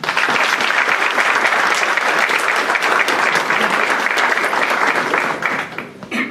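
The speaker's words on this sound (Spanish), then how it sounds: "Recibámoslo con un fuerte aplauso." A university audience in Colombia gives loud applause to welcome a professor, a dense, sustained wall of clapping that fades and breaks up in the final second.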